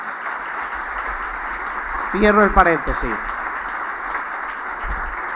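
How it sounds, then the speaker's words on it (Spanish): An audience at a roundtable for the San Josemaría centenary keeps up a steady wash of applause for CARF while a voice speaks briefly over it near the middle. "pedir un fuerte aplauso para CARF"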